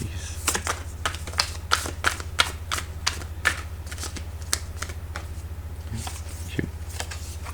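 A deck of cards is shuffled close by, a quiet run of crisp riffling snaps and flicks at an uneven rhythm over a steady low hum.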